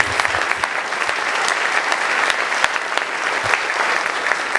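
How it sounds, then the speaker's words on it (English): Audience applause at a police citizens award ceremony, a steady, dense clapping from a sizeable crowd that holds at an even level throughout with scattered sharper claps. "So a round of applause for everybody here today,"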